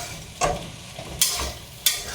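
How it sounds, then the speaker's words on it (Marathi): A spoon stirs sabudana khichdi in a pan, making three quick scraping strokes with a faint sizzle between them, close and fairly quiet. "असं मिक्स करून घेतलं व्यवस्थित"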